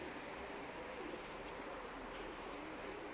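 Soft cooing and faint bird calls from a flock of Terminator pigeons flying overhead, over a steady outdoor wash of broadband noise, fairly quiet and continuous.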